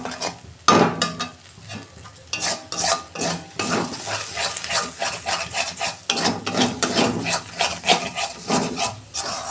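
Two eggs with a pinch of salt are beaten briskly in a bowl, making fast, close, rhythmic scraping and clicking strokes that run continuously without pause.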